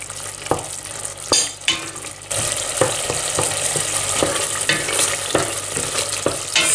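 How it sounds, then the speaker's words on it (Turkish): Meat and onions fry with a spoonful of mixed pepper and tomato paste in a pan, giving a steady close sizzle broken by repeated scraping stirs of a spoon. "Salçayı da güzelce kavurdum."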